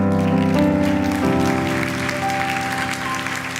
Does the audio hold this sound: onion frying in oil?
no